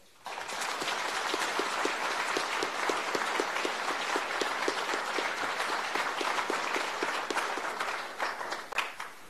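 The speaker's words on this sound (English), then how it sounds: "So please join me in thanking them in a round of very warm applause." Warm applause fills a business signing ceremony in China, thanking Presidents Trump and Xi Jinping. A large crowd claps densely and evenly for about nine seconds, close and sustained, tapering slightly at the end.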